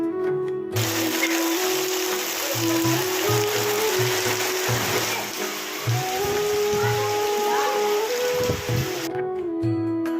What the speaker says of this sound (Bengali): এত হাওয়ার এত বৃষ্টি